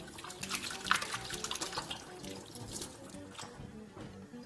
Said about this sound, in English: Just going to rinse my hands quickly.